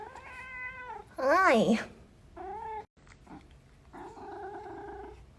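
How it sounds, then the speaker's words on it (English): A very vocal house cat named in an indoor setting lets out several loud, drawn-out meows and caterwauls, one especially strong wavering yowl near the start, with a person briefly speaking between the calls. "This is literally the noisiest cat"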